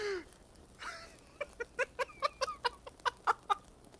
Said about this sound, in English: Oh my god, what is with that fucking bird?